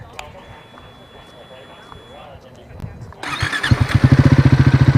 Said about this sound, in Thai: เสียงเครื่องยนต์ของตัวสปีด400 กันบ้างนะคะ